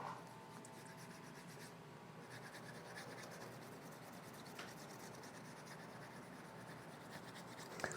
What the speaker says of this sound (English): I'm going to wet it and burnish